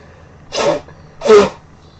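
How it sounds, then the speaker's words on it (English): A person blowing their nose during seasonal allergies: two loud, breathy nasal blasts about half a second each, close to the microphone, with a short pause between them and no talking. "I gotta blow my nose."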